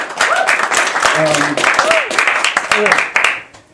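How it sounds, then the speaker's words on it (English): Clapping at a Chicago story slam night mixes with whoops and cheering voices from the crowd, lively and close before tapering off. "Round of applause to everybody who did"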